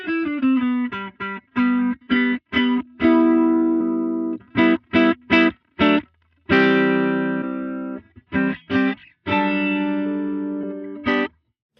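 A distorted electric guitar through a Line 6 Helix plays short choppy notes and held chords, thickened by a doubling effect, with brief silences between phrases.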